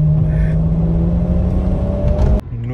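BMW M4 sports car rumbling loudly close by with a steady engine drone and harmonic whine, cutting off abruptly near the end.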